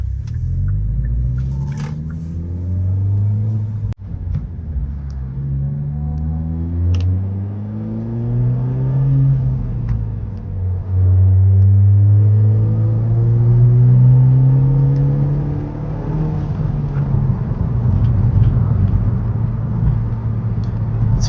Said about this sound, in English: it definitely sounds louder in the exhaust and in the front with the air coming in.